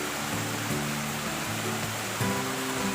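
Water from the falls at Pok Fu Lam Reservoir in Hong Kong rushes in a steady, dense wash of white noise that holds level throughout, with no voices over it.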